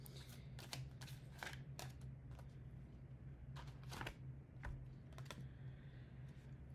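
Oracle cards being shuffled in a steady run of soft riffling bursts and flicks, close by and fairly quiet over a low background hum.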